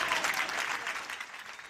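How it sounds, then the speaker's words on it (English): A crowd at a Republican telephone town hall in Roswell, Georgia erupts in loud, sustained cheering and clapping, a dense roar that holds steady and fades slightly toward the end. "Crowd goes wild."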